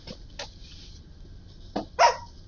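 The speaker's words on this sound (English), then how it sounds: "Oh boy, here goes the dog." A dog barks a few times in the room during a Warhammer 40k Inquisitor game broadcast: two faint yips, then two louder, sharper barks close together near the end, over quiet background.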